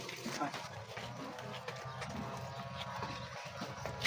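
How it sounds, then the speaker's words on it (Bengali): Hooves of Sahiwal cows and bulls walking on a farm give soft, irregular clopping steps, faint and fairly close, with quiet voices in the background. "এই দেখেন গরুগুলো হাঁটাই দেখেন"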